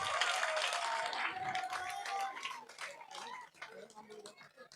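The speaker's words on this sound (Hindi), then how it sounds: "जोरदार तालियों से अभिनंदन और स्वागत" Crowd applause welcoming a speaker at a village rally in Khubdu, Gannaur, loud clapping at first that thins and fades while voices talk over it.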